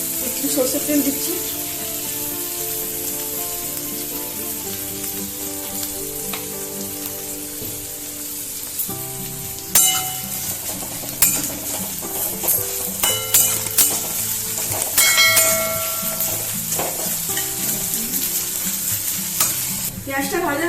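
Onions frying in mustard oil with steady sizzle and frequent scraping stirs of a spoon against the pan, close and loud, with people talking faintly in the background.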